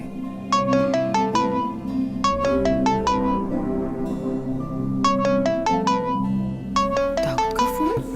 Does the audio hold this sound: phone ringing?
yes